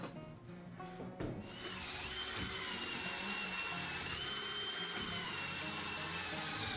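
A brand-new drill bit bores into hard maple for a woodworking workbench, starting with a few short bursts and then settling into a sustained, high-pitched grinding whine that holds steady to the end.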